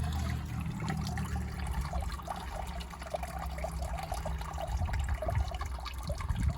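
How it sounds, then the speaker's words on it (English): Water draining out of the air filter housing of a Land Rover Freelander 2, a steady rushing trickle that runs without pause for several seconds, fairly loud and close. "it does actually drain water out quite quickly"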